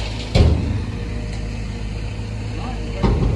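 Concrete mixer truck engine, seen in Germany, running with a steady low rumble throughout, with brief louder knocks or thumps near the start and end.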